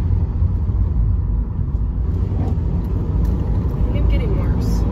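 A manual transmission car's engine revs high to about 5,000 RPM while a beginner struggles with the clutch, a loud low rumbling drone inside the cabin with people talking over it.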